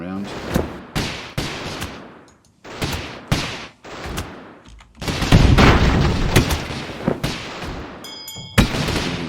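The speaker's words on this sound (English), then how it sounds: "Two muskets." Musket volleys in Airships: Conquer the Skies, a rapid series of sharp, loud cracks and booms in uneven bursts, with a denser rumbling stretch in the middle and a final bright shot near the end.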